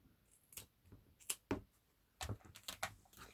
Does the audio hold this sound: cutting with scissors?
yes